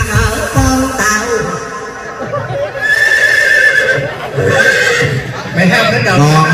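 A horse whinnies several times amid lively music and singing at a Saigon lô tô show, the neighs loud and up front, with clip-clop hoofbeats suggested beneath the voices.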